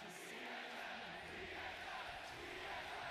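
A distant arena crowd at a League of Legends esports match, MSI 2015, roars as a steady wash, faint and continuous, with voices talking over it.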